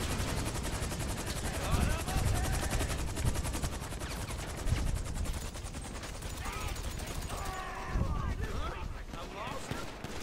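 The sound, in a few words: gunfire in the video game GTA 5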